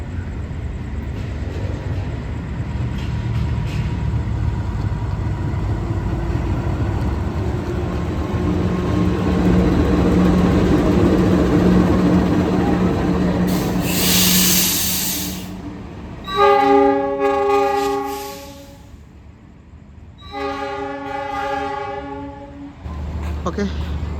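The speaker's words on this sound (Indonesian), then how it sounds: "lokomotifnya masuk jalur 2 di Langsir" A locomotive shunts onto track 2 at a railway station, rumbling steadily before sounding two loud, sustained horn blasts near the end.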